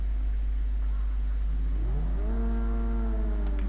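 A supercar engine in the video game GTA 5 revs up in a rising whine, then holds a steady, tonal high-revving note over a constant low rumble.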